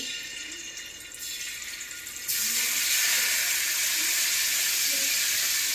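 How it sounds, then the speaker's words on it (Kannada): Prawns hit hot oil in a pan and sizzle, a faint hiss that jumps to a loud steady crackling sizzle partway through and holds, heard alone without talk. "ಮೊದಲು ಪ್ರಾನ್ಸನ್ನು ಫ್ರೈ ಮಾಡ್ಕೊಳ್ಬೇಕು"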